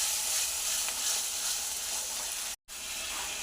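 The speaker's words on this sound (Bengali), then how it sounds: "এর মধ্যে টমেটো, ক্যাপসিকাম সব কিছু দিয়ে দিলাম। এগুলোকেও একটু ভালো করে ভাজা ভাজা করবো এর সঙ্গে।" Tomato and capsicum fry in a hot pan, a steady bright sizzle with faint stirring, close and continuous, with a brief cut near the end.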